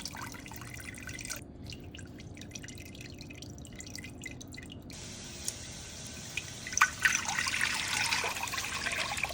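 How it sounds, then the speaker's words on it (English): Rendered beef tallow strained through a fine mesh, giving a steady patter of close drips and trickling liquid that grows a little louder and busier toward the end. "I'm gonna grab the spider and start getting these chunks out and then strain it in a fine mesh"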